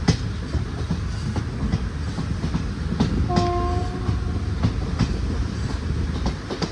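A sleeper-class train rumbles along loudly with rhythmic clattering of wheels, heard from the last sleeper coach, and a brief horn sounds midway through.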